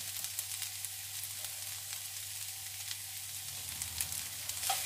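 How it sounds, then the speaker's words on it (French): Onions and a bell pepper fry in olive oil in a pan, giving a soft, steady crackling sizzle with faint irregular pops, fairly quiet and without any voices. "je vais maintenant faire revenir mes oignons et mon poivron dans une poêle avec de l'huile d'olive"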